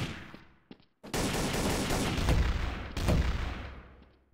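Gunfire in Garry's Mod Trouble in Terrorist Town, a few sharp shots followed by dense, loud sustained bursts of automatic fire with a brief gap between volleys.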